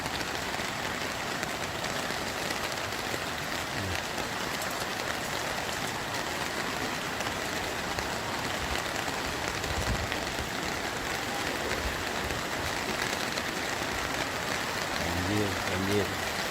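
Heavy rain pours steadily during flooding in Lahat, a dense, constant hiss that fills the whole stretch, with a voice talking faintly beneath it.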